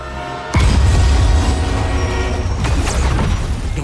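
A runaway train with no brakes in the Spider-Man 2 video game, a loud sustained rumbling roar with heavy low-end crashing that starts abruptly and keeps pounding steadily to the end, with no voices.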